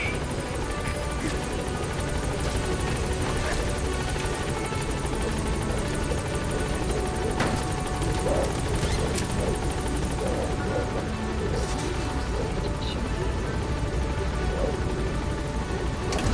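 Helicopter in the video game Metal Gear Solid V, a loud continuous rotor thump and turbine whine holding steady throughout.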